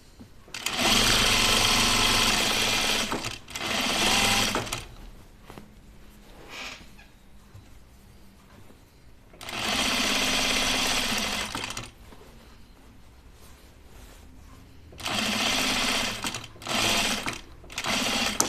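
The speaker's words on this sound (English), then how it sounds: "I'm just gonna single needle this and look for my areas right here," A sewing machine runs single-needle seams on a pajama top in three long, loud bursts of fast whirring, separated by quiet pauses with light handling sounds.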